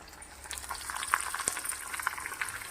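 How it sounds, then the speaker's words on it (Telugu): Tamarind sizzles and fries in an oil-filled pan while cooking a coriander dish, a busy crackling hiss with scattered sharp pops, close and moderately loud, with no talking. "ఇప్పుడు మనం ఇందులో కొంచెం చింతపండు కూడా యాడ్ చేసి వేయించుకుందాం."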